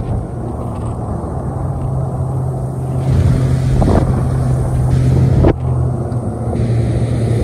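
A 2023 Ultimate Panfish 1860 motorboat cruising with a steady engine drone and heavy wind rush, the engine note shifting and swelling midway through a 90-degree right-hand turn, with a few sharp knocks against the hull; no voices.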